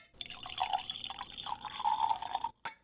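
Johnnie Walker Black Label whisky pouring into a glass, a close, trickling liquid stream with gurgling bubbles that stops abruptly near the end, followed by a short clink.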